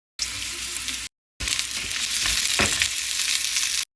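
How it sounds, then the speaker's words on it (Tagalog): Onions sautéing in a pan for callos, a steady broadband sizzle that runs alone, breaks off briefly, then resumes with a few soft stirring knocks. "mag-isa tayo ng sibuyas"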